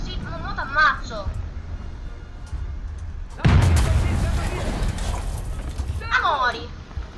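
A tank cannon fires in the War Thunder video game and lands as one loud, sharp boom that rolls off slowly. Excited voices shout before and after the blast.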